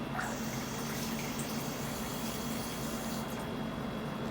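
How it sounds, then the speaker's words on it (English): Steady rushing of water running into a glass, a continuous even stream with no voices. "fill the complete glass of water."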